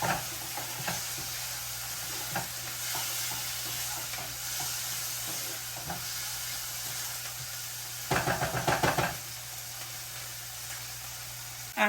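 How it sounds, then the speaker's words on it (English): Garlic sautés in a pan for a keto spaghetti sauce, giving a steady close sizzle with occasional stirring scrapes and a louder burst of clatter near the end. "I'm going to saute until that garlic is aromatic"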